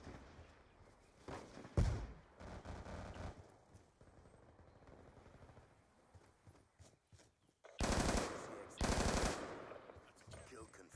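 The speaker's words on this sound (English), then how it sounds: "I stopped shooting, I thought I killed him." Automatic gunfire rattles in Call of Duty Black Ops 2: a short burst, then quieter shots and movement, followed by two loud sustained bursts of rapid fire later on.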